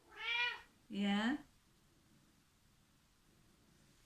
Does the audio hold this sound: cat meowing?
yes